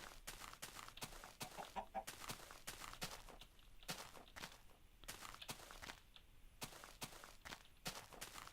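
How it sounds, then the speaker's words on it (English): Chickens in the Minecraft video game, heard as a series of soft in-game clucks scattered among steady clicky footstep-like taps, with no talking. "Plenty of chickens."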